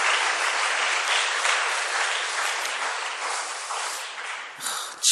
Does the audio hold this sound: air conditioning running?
no